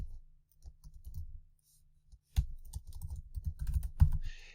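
Fingers tap on a computer keyboard in quiet, irregular bursts of crisp clicks, with a brief pause before a faster, denser run of keystrokes.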